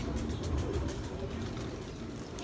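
Pigeons coo in Parque de las Palomas, a pigeon park in Old San Juan, Puerto Rico, their soft low calls blending into a steady, busy outdoor murmur with no one talking.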